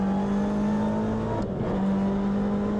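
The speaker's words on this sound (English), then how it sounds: "Up through the gearbox, 6-speed sequential gearbox, flat out through to turn 3 here" TCR touring race car at Phillip Island in 2019, flat out up through a 6-speed sequential gearbox: a loud, steady engine drone close by with a brief dip as it shifts gear, then pulling on again.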